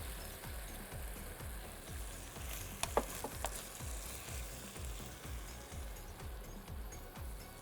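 Mixed vegetables for Szechuan chicken stir-fry in a hot pan with a steady loud sizzle, punctuated by regular rhythmic scraping strokes of stirring and a few sharp metallic clinks near the middle.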